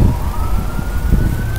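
A police car siren wails steadily in a continuous rising tone, passing over heavy traffic rumble in a city street, loud and fairly close.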